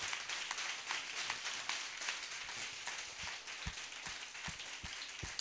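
A church congregation applauding and cheering for Jesus, a steady wash of many hands clapping with dense crackle throughout and a few sharper, louder claps near the end.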